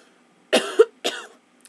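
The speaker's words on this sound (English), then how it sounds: "I don't know why I'm coughing." Two sharp, close coughs about half a second apart, loud against a quiet background, with a faint click just after.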